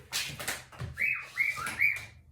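A pet bird sings indoors, giving a few quick, bright whistled chirps close by, fairly quiet, with faint handling noises between the notes.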